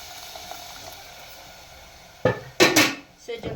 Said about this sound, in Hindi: अब डालेंगे इसमें दूध